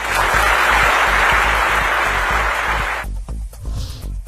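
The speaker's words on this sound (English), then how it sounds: "And to be met with a round of applause." Loud audience applause fills most of the clip, then breaks off abruptly and gives way to scattered sounds and a voice.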